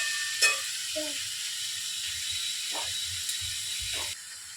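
Potatoes, ridge gourd and tomato fry in oil with a steady broadband sizzle and hiss throughout, broken by a few short stirring scrapes, then the sizzle drops abruptly near the end.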